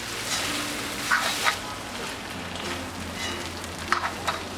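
Beef varattiyathu stir-roasting in a pan over a medium flame, a continuous close sizzle with scattered stirring clatters and a few sharper spatters, with no voices.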